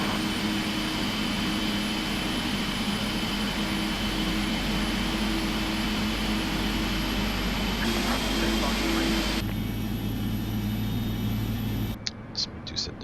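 A simulated left jet engine of a PMDG 777F spins up in a flight simulator, a steady loud whooshing roar with a rising whine that holds throughout and then drops out abruptly near the end.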